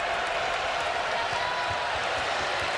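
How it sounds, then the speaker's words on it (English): Stadium crowd at a college football game between Wake Forest and NC State, a broad, steady roar of boos and shouting from a large distant crowd, unbroken for the whole stretch. "Crowd really upset"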